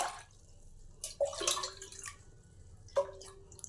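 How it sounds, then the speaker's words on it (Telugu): Water poured from a glass onto washed urad dal set to soak for idli batter, giving a few short splashing pours and trickles at close range in an otherwise quiet kitchen. "నీళ్ళు పోసుకున్నాము."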